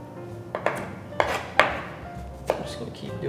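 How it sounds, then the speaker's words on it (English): Knife dicing a shallot on a cutting board in a home kitchen, several sharp separate chops at an uneven pace, close and clear against quiet room tone. "We're just going to do a small dice on that shallot."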